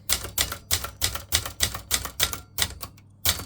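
A 1980 Brother 210 slimline portable typewriter with a new ribbon clacks through a key test, a steady run of sharp, close strikes roughly every third of a second with a brief pause before the final hit.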